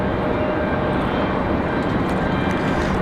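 Steady, loud roar of a Breeze Airways Airbus A220 jet at Raleigh-Durham International Airport, a broadband engine rumble holding level without a break, close and dominating.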